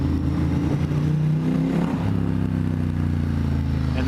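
Ducati X Diavel S motorcycle fitted with a full Termignoni exhaust, idling with a deep, steady throb and slight clatter, close and continuous throughout.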